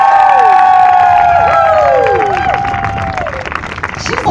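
An audience cheers and applauds loudly after a motivational speech, with whoops and shouted voices over steady clapping that eases slightly toward the end.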